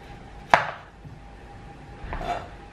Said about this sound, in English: For the broccoli, I just like to cut it up.